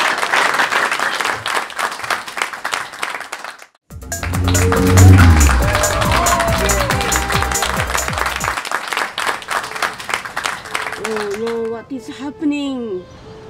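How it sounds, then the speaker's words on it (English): Comedy-show studio audience breaks into loud applause and cheering for a guest comedian, a dense burst of clapping mixed with music before voices resume talking. "How about a round of applause for Aarti Vincent joining us for joke off?"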